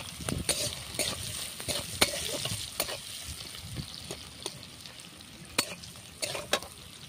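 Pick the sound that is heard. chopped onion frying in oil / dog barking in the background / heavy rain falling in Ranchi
chopped onion frying in oil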